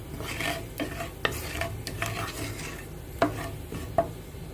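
Asafoetida and whole dried red chillies stirred in hot oil over low heat give a soft sizzle, with a few sharp clinks of the spoon against the pan.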